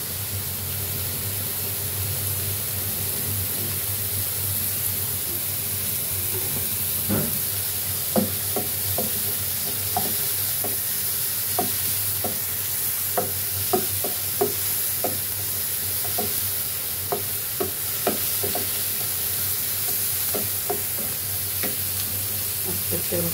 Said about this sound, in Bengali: कम तेल दिए रान्ना करब आजके मुरगि।